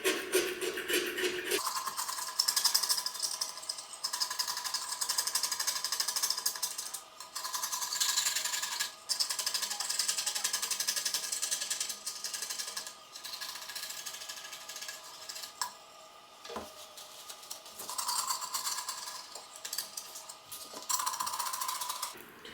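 A razor blade scraper working over woodstove glass gives repeated close, rasping scrapes in bursts with short pauses between strokes.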